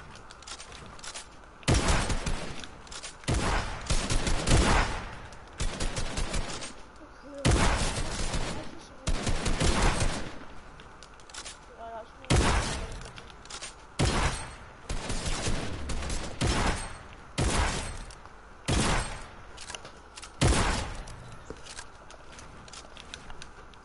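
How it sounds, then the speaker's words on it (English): Repeated loud bursts of video game gunfire aimed at robots, arriving in rapid clusters every couple of seconds with short gaps between, close and harsh throughout. "I'm done that shooting the robots bit now"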